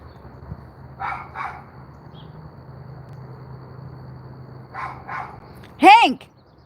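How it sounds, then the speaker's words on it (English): A dog barks in a backyard, two short pairs of barks a few seconds apart, followed by a louder, higher yelp or whine near the end, heard over a low steady background. "He stopped barking."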